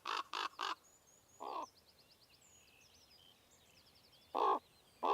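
A raven gives hoarse, harsh caws: three rapid calls, a single call, then two more after a pause, loud and close, with faint high bird chirps in the background.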